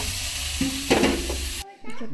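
Potatoes sizzle steadily in a pan in a Bengali village kitchen, a close, bright frying hiss with a stirring clatter midway, then a faint voice speaks as the sizzle cuts out.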